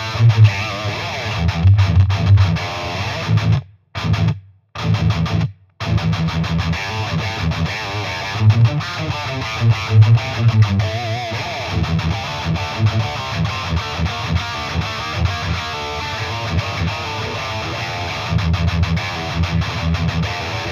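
Thick, heavily distorted electric guitar through a Soldano amp simulation, chugging through palm-muted riffs and chords, loud and aggressive, with a couple of abrupt pauses.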